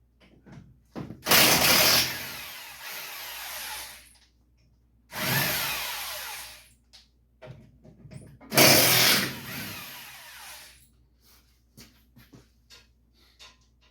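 Three loud bursts of a power impact tool zip lug nuts off the wheels of a 1951 Chevy on a hoist in a workshop, each lasting a second or two with quiet pauses and small clinks between.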